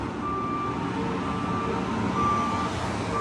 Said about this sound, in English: trash truck outside.